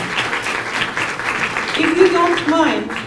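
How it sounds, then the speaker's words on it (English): Audience applause at an international symposium conference, brisk clapping from the room that runs under a speaker's voice throughout. "Can I ask another round of applause for Kazunari Matsuda?"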